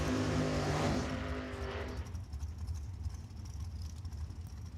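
A dragster at Tucson Dragway roars past close and loud, its engine note sweeping down and fading into distant rumble and crowd ambience.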